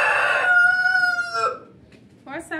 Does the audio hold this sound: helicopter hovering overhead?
no